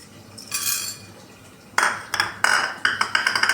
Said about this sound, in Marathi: आता त्यानंतर आपण लवंग आणि काळी मिरी भाजून घेऊया